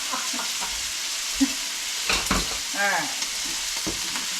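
Meat for carne picada sizzles and crackles steadily in a hot pan, with occasional stirring clatter and a brief word spoken over it.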